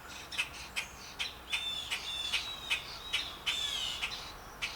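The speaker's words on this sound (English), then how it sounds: "Man, there's some squawking going on." Blue jays squawking from a tree, a steady series of harsh, rasping calls about twice a second, fairly close and loud, with no talking.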